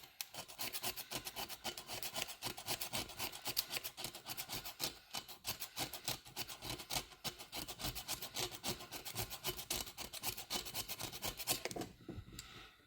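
Rust is scraped off a 350 Vortec L31 cylinder head with a continuous, gritty rasping that repeats in rapid strokes and stops near the end.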